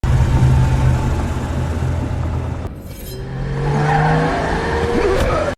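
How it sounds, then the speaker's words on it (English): A car driving with steady engine rumble, a brief dip then a swell with rising whine and tire noise as it swerves, loud and close with no talk. "As Robert starts to swerve the car"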